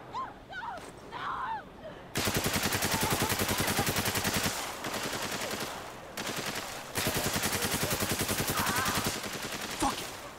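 Gunfire in the video game Spec Ops: The Line: sustained, loud bursts of automatic weapon fire that start after a brief quiet lead-in and run almost continuously, with short pauses between volleys.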